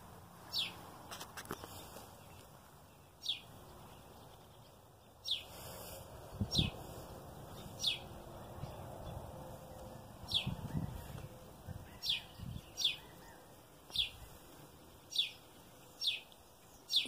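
A bird near its nest chirps repeatedly, sharp high tweets spaced a second or two apart over faint rustling and a quiet outdoor background.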